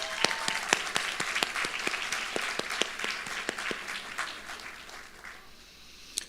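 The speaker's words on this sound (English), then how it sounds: "give them one more hand of applause" An audience at a nursing graduation ceremony claps, with crisp individual hand claps standing out over a softer wash of applause that tapers off toward the close.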